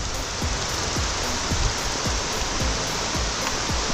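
Heavy mountain rain pours down steadily in a dense, hissing wash during a mountain bike ride, with gusts of wind buffeting the microphone in a regular rhythm.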